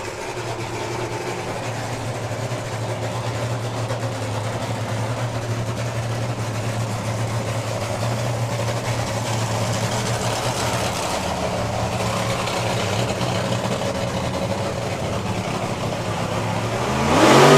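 A drag racing car at a drag strip event, launching amid tyre smoke, roars loud and continuous from a distance, the engine note holding steady before swelling sharply at the very end.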